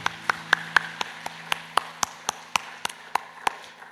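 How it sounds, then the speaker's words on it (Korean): Congregation at a Sunday worship service in a church clapping in praise, heard as a steady rhythmic beat of sharp claps at a moderate distance, with a low hum underneath. "하나님께 영광과 감사의 박수 올려드리겠습니다"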